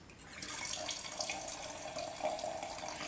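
Wine pours through a rubber-sealed aerator fitted into a bottle, giving a steady, hissing, bubbling stream of liquid that runs continuously and quietly with no voices.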